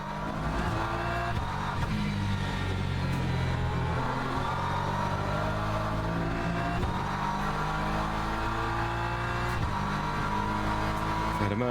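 A Porsche race car's engine drones steadily in the Le Mans Ultimate sim racing game, a loud continuous mechanical roar with shifting revs and gear changes, sounding close and unbroken throughout.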